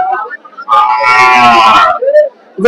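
A cow on a farm gives a single loud, drawn-out moo lasting over a second, close by, followed by a short lower grunt and another brief call at the end.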